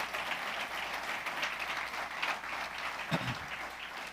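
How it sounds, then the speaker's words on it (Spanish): A church congregation at a Sunday-morning Spanish-language service claps together in steady, moderately loud applause lasting a few seconds, with a low thump partway through. "Demos un aplauso al Espíritu Santo esta mañana."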